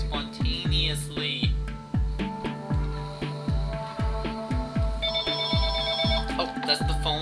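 Telephone in a video game ringing loudly in a fast, repeating electronic trill, with regular bursts of sharp impacts pulsing alongside it and a brighter tone joining near the end.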